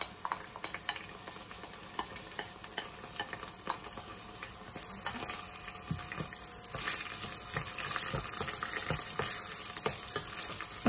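Lentils sautéed in hot oil for harira, giving a quiet, steady crackling sizzle broken by light scrapes and taps of a utensil, close but fairly faint.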